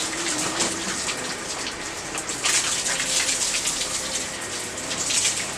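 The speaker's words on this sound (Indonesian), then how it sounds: "Ini harus disemprot." Water sprays steadily onto a rabbit cage as it is cleaned, a continuous hiss of spray that swells louder in bursts, close by and with no voices.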